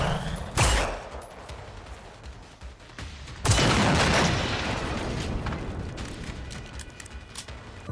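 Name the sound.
hunting rifle and handgun gunfire in video game Generation Zero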